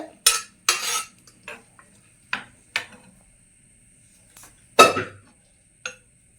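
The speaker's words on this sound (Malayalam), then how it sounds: "നമ്മൾ ഇളക്കുന്നുണ്ട്. ഞാൻ ഇളക്കി മറിക്കുന്നുണ്ട്." A utensil stirs and scrapes potato around inside a pot, giving a series of close, irregular scraping strokes and knocks separated by short silences.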